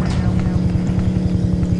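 A helicopter in the video game Dude Theft Wars gives off a steady, pulsing rotor drone that stays loud and continuous throughout, with a low thumping rhythm.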